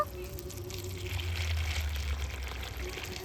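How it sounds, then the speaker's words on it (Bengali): Water pours into a bowl of puffed rice in a kitchen, a faint, soft trickle that lasts a few seconds at low volume. "এখানে আমি এক বাটি মুড়ি নিয়েছি এই মুড়ির মধ্যে একটু জল দিয়ে দেব"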